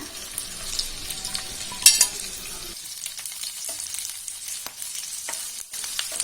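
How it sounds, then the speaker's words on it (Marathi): Large cut pieces of okra tipped into hot oil in a pan on a gas stove, a clatter as they drop in, then a steady close crackling sizzle on its own. "आता आपण जी भेंडी कापून घेतलो मोठी मोठी ती घालून घेऊया"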